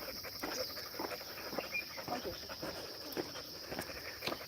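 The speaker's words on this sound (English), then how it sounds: "And he's kind of like the local dog." A local dog panting outdoors during an early-morning hike, quick rhythmic breaths repeating steadily, faint and close, with a steady high insect or bird hiss in the background and some low talk.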